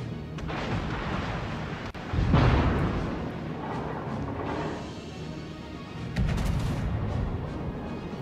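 Battleship IV Wyoming firing its main guns in World of Warships on the Strait map, deep booming salvos rolling out over a constant rumble of engine and sea noise, heavy and close.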